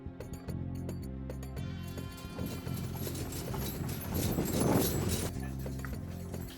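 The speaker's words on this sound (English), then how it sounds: "we found the last driver willing to give us a ride in his horse carriage" Hooves of a horse pulling a carriage clip-clop steadily along a street in the Meknes medina in Morocco at night, a close, regular trotting rhythm over a busy background hum.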